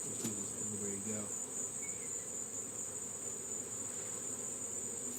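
Honeybees buzz steadily around an open, active beehive during a honey harvest, a continuous mid-pitched drone of many wings with a few louder passes near the microphone and no talking.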